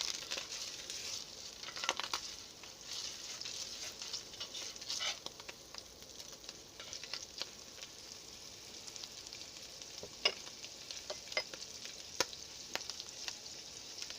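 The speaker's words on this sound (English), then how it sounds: "That is hot oil, so be careful. It's still sizzling." Butter melting into hot oil in a skillet for a pork and potato stew, giving a steady soft sizzle with frequent sharp pops and crackles scattered throughout, close and continuous.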